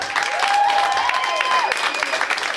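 Steady audience applause at a stand-up comedy show fills the clip, with a voice speaking over the clapping.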